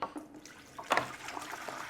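Tap water runs and splashes into a 5-litre jug, a soft, faint trickling with a brief louder gush partway through.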